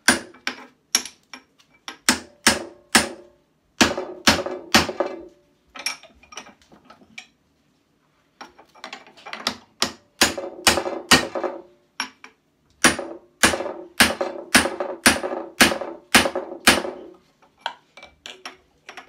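A hammer striking a small chisel at the center of a workpiece, giving sharp, ringing metallic taps in quick rhythmic bursts separated by short pauses, fairly close and clear with no talk.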